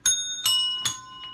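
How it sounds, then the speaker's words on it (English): A small bell rings in three clear strikes, about a beat apart, each with a bright shimmering tone that fades before the next, followed by a fainter fourth tap, close and without talk. "What, my bell ringing?"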